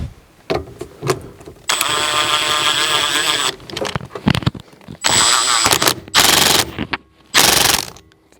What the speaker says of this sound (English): I'm gonna drive my 13 millimeter bolt into the steering wheel